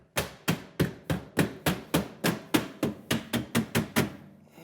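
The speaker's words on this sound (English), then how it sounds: "you can use a mallet" A mallet taps an appliance trim clip into place during a Fhiaba built-in appliance installation: about fourteen sharp, evenly spaced knocks, close and fairly loud, with no talking.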